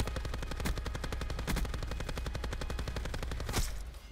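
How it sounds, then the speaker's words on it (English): Light machine gun fire in Black Ops 4, one long sustained burst of rapid, evenly spaced shots emptying the magazine, loud and continuous, with a final heavier report just before it stops. "I don't know what it is that compels me to completely empty the mag when I use this gun"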